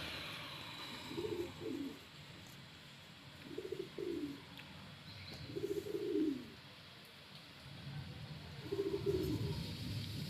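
Racing pigeons, one of them green, give four soft, low cooing calls spaced a few seconds apart, close by against a faint hiss of background noise.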